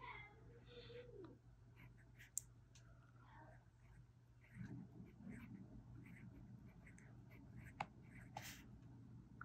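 Fine-nib Leonardo Momento Magico fountain pen scratching faintly on paper, soft intermittent strokes and light taps over a low steady hum, quiet and close.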